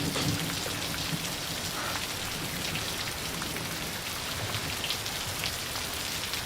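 Steady rain falls in a film scene, a dense, even hiss of drops spattering on surfaces that carries on unbroken throughout, with no voices.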